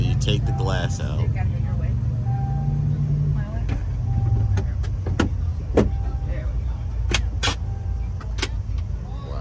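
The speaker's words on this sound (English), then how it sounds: "here, we're actually going to take the glass out so you can see it" A power rear glass window on a 2024 GMC Sierra EV pickup truck lowers with a steady electric motor whir under ongoing talk, punctuated by a few sharp clicks and taps.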